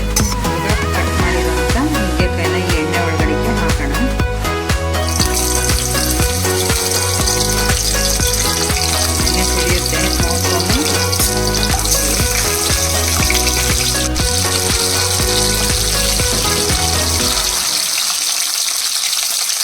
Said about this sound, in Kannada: ಸ್ವಲ್ಪ ಹೊತ್ತು ಪ್ಲೇಟನ್ನ ಮುಚ್ಚಿದ್ದೀನಿ ಎಣ್ಣೆ ಎಲ್ಲ ಸಿಡಿಯುತ್ತೆ ಚೆನ್ನಾಗಿ ಫ್ರೈ ಆಗೋವರೆಗೂ